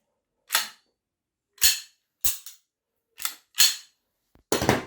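A Beretta blank-firing pistol loaded with blank cartridges cracks out six sharp, separate shots at irregular intervals, each loud and close with short gaps of silence between.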